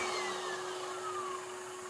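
A dust-extraction vacuum starts up automatically when a TES 9-inch 1280 W wall sander is switched on, giving a steady, loud, high-pitched whine with a sustained tonal hum, close and uninterrupted.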